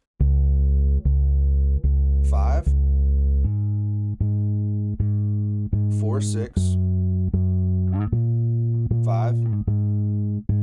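A bass guitar pulses steady quarter notes in the bass part of a worship song, each repeated note close and full, while a voice counts along over the rhythm.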